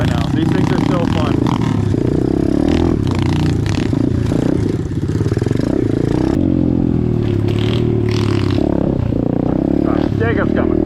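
An Apollo DBX15 Chinese pit bike ridden on a dirt trail, its small engine droning and shifting pitch under wind buffeting, with a voice talking over it throughout.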